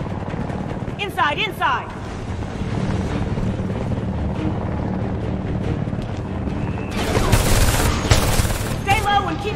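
A transport helicopter in Homefront: The Revolution thuds and drones through a combat scene, mixed with bursts of gunfire and explosions. A voice shouts briefly over the loud, dense battle noise.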